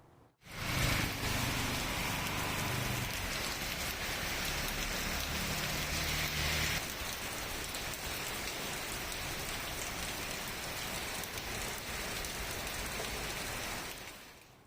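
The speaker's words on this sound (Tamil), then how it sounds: "காற்றுடன் கூடிய மழை பெய்தது" Heavy wind-driven rain pours down steadily in Chennai, a dense, loud, unbroken hiss of falling water lasting the whole stretch with no voices.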